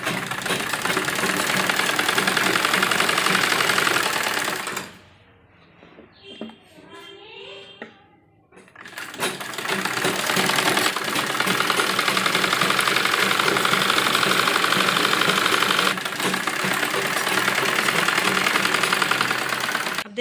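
Electric sewing machine stitching folded hems on baby dress fabric, a steady loud mechanical whir running for long stretches, stopping briefly midway for a quieter pause with faint handling.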